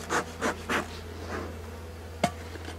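Honeybees at an open beehive during an inspection of the supers, with a few close buzzing passes sweeping by over a low steady hum, followed by a sharp knock.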